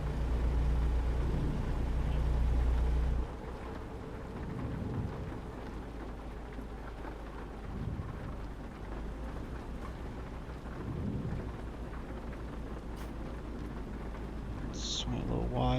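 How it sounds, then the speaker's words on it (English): Steady rain drums on a Freightliner Cascadia truck cab roof in American Truck Simulator, close by, a dense continuous patter with low rumbling underneath and occasional heavier swells. "the nice gentle sound of rain hitting the roof of my Cascadia"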